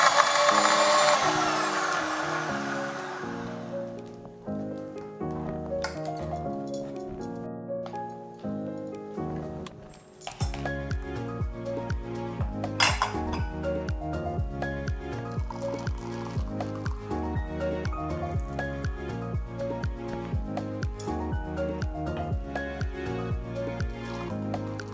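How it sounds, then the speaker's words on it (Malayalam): A mixer grinder blends rose milkshake with ice cubes, giving a loud, harsh whirring grind for the first few seconds before it cuts out and music takes over. "നമുക്ക് നല്ലോണം ഒന്ന് മിക്സിയിൽ അടിച്ചെടുക്കാം."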